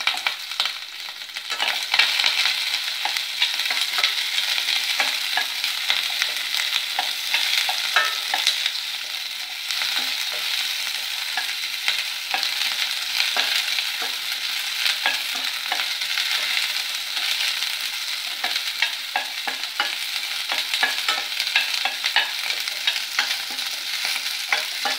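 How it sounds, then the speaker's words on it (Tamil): Onions frying in oil for a vazhaipoo puli kulambu, with a steady bright sizzle and constant scraping of a spoon stirring through the whole stretch, close and fairly loud, no talking. "கொஞ்சம் கூட எண்ணெய் ஊற்றுறேன் நான், 1/2 கரண்டி. வெங்காயத்தை போட்டணும்."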